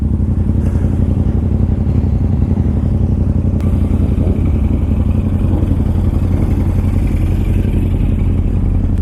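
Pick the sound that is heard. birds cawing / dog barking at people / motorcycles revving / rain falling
motorcycles revving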